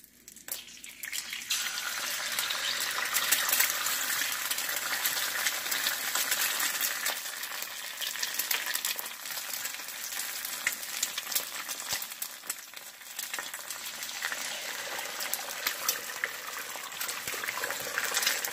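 Eggs fry in a pan with burnt onion and scallion for a Jamaican breakfast, giving a loud, close, unbroken crackling sizzle that runs the whole time without talk.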